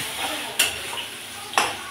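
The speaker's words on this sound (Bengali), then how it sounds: "বাকিগুলো এখন আমি এক এক করে ভেজে কষিয়ে নিলাম।" Vegetables such as pointed gourd, potato and teasel gourd fry with spices in a pan, a steady sizzle broken by two sharp scraping stirs at close range.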